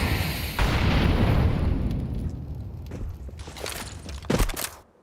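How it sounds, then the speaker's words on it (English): Grenade blasts in a Counter-Strike esports match, a dense roaring burst followed by scattered sharp pops and a final loud explosion before cutting out, with no voice over it. "Nades over the top."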